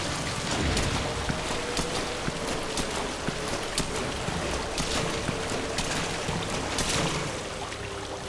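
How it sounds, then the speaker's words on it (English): Steady rainfall in the Metal Gear Solid V oilfield facility, a dense, even hiss of drops pattering across surfaces at constant loudness throughout, with a faint low rumble underneath. "Sound of rainfall should help to mask your footsteps."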